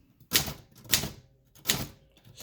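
An Alpina SK 24 typewriter is typed on in three distinct bursts of crisp, clattering key strikes with short pauses between them, close and fairly quiet in a still room.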